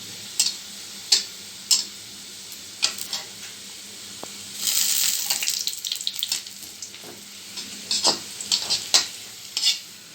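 Onion frying in oil in a pan for a Pabna-style home dish, with a steady sizzle and repeated stirring scrapes and clatters, alone and close.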